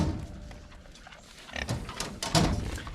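Pigs grunting on a farm, young pigs over 100 pounds among them: a steady run of low, rough snorts and grunts close to the listener, growing louder in short bursts toward the end.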